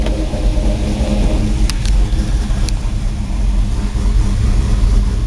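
An LS engine running close by, a loud, dense mechanical drone that holds fairly steady with only slight swells and no sharp revs, plus a few faint clicks.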